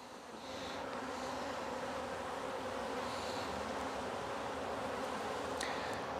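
Honey bees buzzing inside an opened hive during a September inspection of overwintered nucs, a dense, steady drone close by with no voices, a faint higher whine occasionally rising above it.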